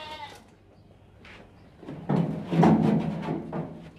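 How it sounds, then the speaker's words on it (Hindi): A castrated two-tooth sacrificial goat weighing 39 kilograms bleats loudly at close range, a few strained calls following a quiet stretch with faint background noise. "ये बकरा चेक करें भाई, कुर्बानी वाला बकरा है"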